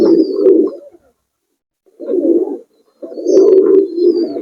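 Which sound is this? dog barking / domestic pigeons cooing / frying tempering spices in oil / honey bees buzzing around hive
domestic pigeons cooing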